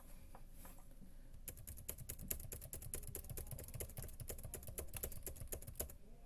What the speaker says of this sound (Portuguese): Eu vou ter que digitar 40 vezes aqui para testar.